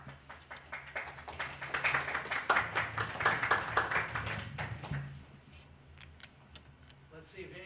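A crowd at a St Croix County Board meeting claps after a speech. The applause swells to a peak around the middle, then thins out to scattered claps, and voices murmur near the end.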